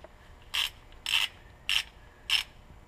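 A ratchet wrench with a 24 mm socket loosening the rear differential drain bolt on a Mitsubishi Evo gives four short, bright metallic clicking bursts, evenly spaced about half a second apart, close and alone over quiet background.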